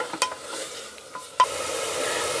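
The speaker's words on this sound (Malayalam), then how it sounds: "ടൊമാറ്റർ നല്ലതായിട്ട് വഴറ്റി സോഫ്റ്റാക്കി എടുക്കണം." Chopped tomatoes soften in a hot pan for chole curry, giving a low, even sizzle with a few sharp clinks of a spoon stirring against the pan.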